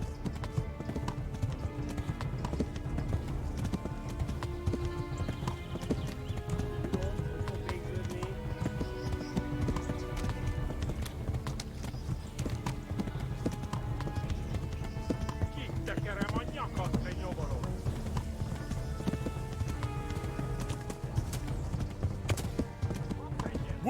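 Galloping horse hooves in the medieval video game Kingdom Come: Deliverance, a fast continuous clip-clop rhythm with game voices shouting over it.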